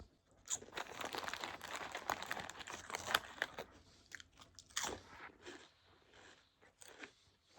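Crunchy cakes being bitten and chewed close up, with dense crackling crunches and crinkling through most of the stretch, easing into quieter, sparser chewing toward the end with no talking.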